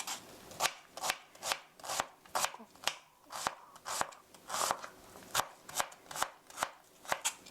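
A knife chops rapidly and rhythmically on a cutting board, mincing ingredients for mapo tofu, with steady close strokes and no talk.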